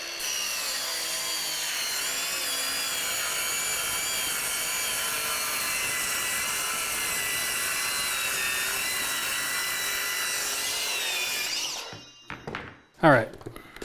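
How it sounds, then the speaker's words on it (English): A saw cuts straight through a wooden cleat for a cabinet in a steady, continuous stroke for about twelve seconds, then stops, followed by a few brief knocks. "we'll cut straight and you'll see how much easier that is for the saw"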